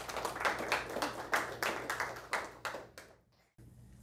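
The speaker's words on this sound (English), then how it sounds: "Give her a round of applause." A small audience at a career day event claps in a sparse, rhythmic pattern of distinct hand claps that thins out and stops, leaving a low room hum.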